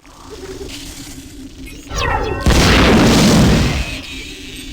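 The worm launcher in System Shock 2 fires with a loud, close, booming blast, a rising whine just before it, and a dense rumble that trails off over a few seconds.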